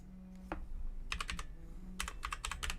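Keys clatter on a computer keyboard during a gaming session, two quick bursts of typing separated by a short pause, close and fairly loud over a low background hum.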